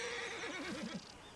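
A horse whinnies in Red Dead Redemption 2, a single close, wavering neigh that rises and falls for about a second and then trails off into quiet game ambience.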